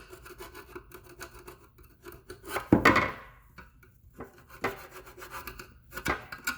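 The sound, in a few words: screwdriver scraping old silicone off Subaru transmission pan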